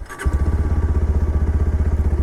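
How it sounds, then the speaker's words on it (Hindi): A Bajaj Pulsar 125 Neon motorcycle starts on its electric self-starter with a short crank, then settles into a steady, rhythmic single-cylinder idle thump, close and clear. "आइए अब हम इसे स्टार्ट करते हैं"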